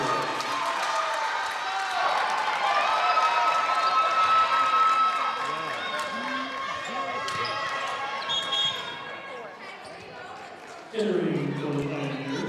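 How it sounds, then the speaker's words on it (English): Crowd noise at a college volleyball match between Spartanburg Methodist College and Bluefield University, with cheering and clapping swelling under a commentator's steady talk, dipping near the end before a brief louder burst. "Crowd is fired up for them"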